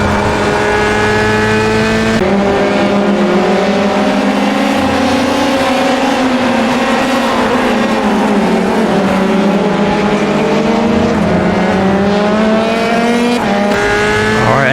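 Formula 3 race car in iRacing at Silverstone, its high-pitched engine loud and continuous, dropping through gears on downshifts with rising and falling revs, heard close from onboard with no talk.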